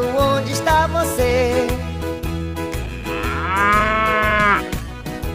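A cartoon ox moos in drawn-out, tonal bellows that rise and fall over bouncy music in a children's colour-learning song.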